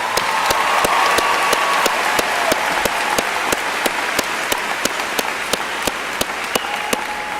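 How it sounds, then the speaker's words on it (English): Applause for a doctoral graduate at a university commencement ceremony: a broad wash of crowd clapping, with a sharp, regular beat of hand claps standing out near the front, steady for several seconds. "Let's join in another round of applause for our doctoral graduate."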